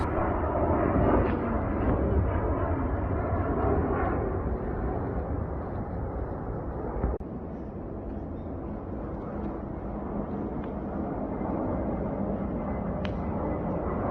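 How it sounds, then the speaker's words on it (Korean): A loud, steady low roar of a large airliner passing over an apartment near an airport fills the air, holding strong throughout with a broad rumbling hiss and no speech. "비행기가 크면 클수록 비행기의 소리가"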